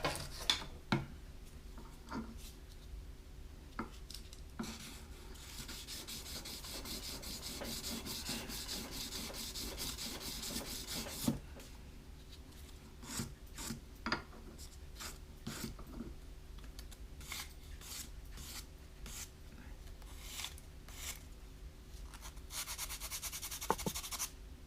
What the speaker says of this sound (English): Right, back to the sandpaper.